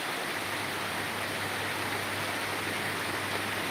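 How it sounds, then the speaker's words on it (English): Rain pours down steadily, heard from beneath a cover in the Philippines as a dense, even hiss of drops with no breaks and no talk. "See, the rain is coming pretty good."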